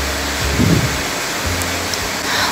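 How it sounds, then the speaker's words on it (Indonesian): Heavy rain pours outside in a steady, dense hiss that fills the whole stretch, loud and unbroken, with a low rumble underneath. "Hujannya deras banget di luar."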